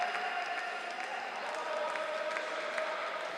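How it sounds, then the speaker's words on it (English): A small group of Japanese supporters cheers in the stands at a judo Grand Slam in Baku, a steady distant wash of crowd noise and applause with faint voices mixed in, sustained without a break. "Some Japanese cheering going on"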